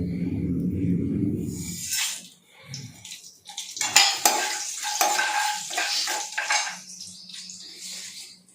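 Tempering seeds, fenugreek and dried red chillies fry in hot oil in a pan for an egg curry, with a crackling sizzle, metal stirring and clanks, and a voice speaking at the start.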